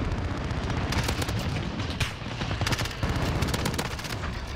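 MP7 submachine gun fire in the video game Modern Warfare, loud rapid automatic bursts chattering almost continuously over a few seconds, close and dominant, with no talk.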